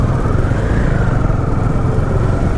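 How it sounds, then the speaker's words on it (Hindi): Loud motorcycle engines rev and rumble continuously at India Bike Week, a crowded biker rally, with a dense, steady roar close by and no clear talk. "आवाज सुनो बस, अब कितने लाउड है यहाँ पे बाइकर्स."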